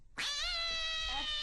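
A black cat lets out one long, drawn-out meow, loud and close, rising sharply and then holding a steady, wavering tone to the end.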